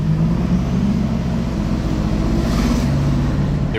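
Pagani Utopia supercar passing in Monaco, a loud, steady low engine drone close by, swelling slightly as it goes past.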